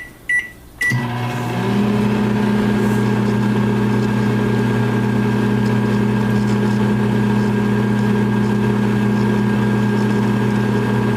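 A microwave oven hums steadily while warming almond bark, starting after a brief click and door sound, then holding a loud, constant drone with a tonal whine for the rest of the time.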